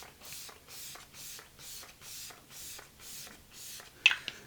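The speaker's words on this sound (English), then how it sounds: "Setting spray is next for me. This is the Colourpop Pretty Fresh setting spray." Colourpop Pretty Fresh setting spray mists out in about eight soft, rhythmic hissing bursts, close and faint, followed by a couple of small clicks at the end.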